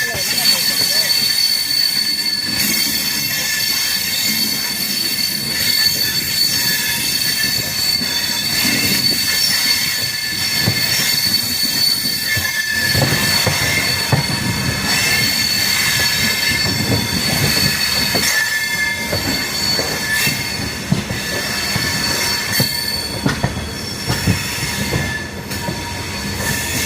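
The Mangalore Express passenger train runs on rails between Puducherry and Viluppuram, heard from inside as a loud continuous rumble with wheel squeal and occasional clacks over nearly half a minute, with faint voices in the background.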